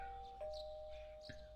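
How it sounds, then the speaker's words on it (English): A doorbell chime from the Persona 4 video game: a single sustained electronic tone rings out clearly and holds steady, with faint background game music and no talk. "Hear the doorbell ring."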